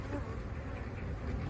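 Honey bees buzz steadily around beehives during colony feeding in December, a continuous close insect drone with no voices.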